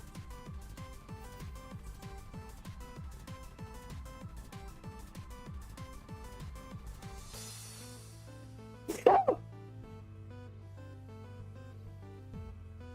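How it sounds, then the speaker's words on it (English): A single loud, sharp sneeze bursts out close to the microphone, standing out over quiet background game music. "That sneeze hurt."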